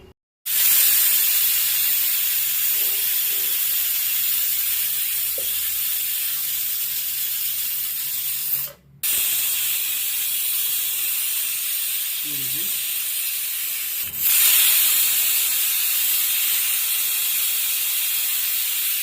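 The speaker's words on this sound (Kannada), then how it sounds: "ನೆಕ್ಸ್ಟ್ 3 ವಿಜಿಲ್ ಆಗಿದೆ, ನಾನು ಕುಕ್ಕರ್ನ ಆಫ್ ಮಾಡ್ತಾ ಇದ್ದೀನಿ." A pressure cooker cooking dal lets out long, loud steam hisses and whistles, two extended bursts broken by a brief gap, close and steady.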